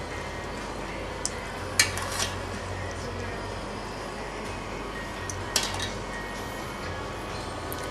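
Dishes and utensils clink while cooked prawns are taken out and plated: two sharp metallic clinks several seconds apart, faint and close, over a low steady kitchen hum with a few softer taps.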